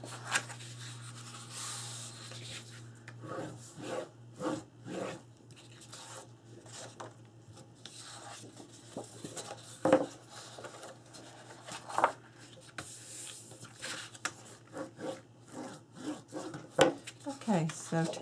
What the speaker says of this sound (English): you need to fold and burnish that on each one of these